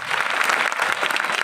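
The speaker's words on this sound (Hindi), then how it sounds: "जोरदार तालियां।" A crowd claps in steady, enthusiastic applause throughout, dense and fairly close.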